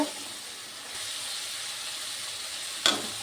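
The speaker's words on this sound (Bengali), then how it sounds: "আলু পেঁয়াজটা আমি ভালো করে কষে নিয়েছি" Potatoes and onions sautéing with prawns in a pan give off a steady, close hiss of sizzling oil, with a brief sharp clatter near the end.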